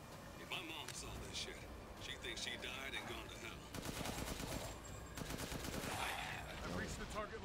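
Rapid automatic gunfire and shots from Resident Evil Village ring out in dense, loud bursts, with a steady stream of fire, mixed with game sounds and a voice talking over it.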